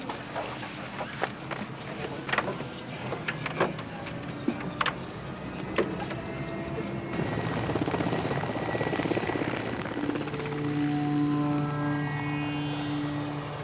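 A helicopter flies out toward a remote bomber crash site near Petropavlovsk over difficult terrain. Its steady rotor and engine roar stays loud and continuous, with a sustained whine and rising tones building in the second half.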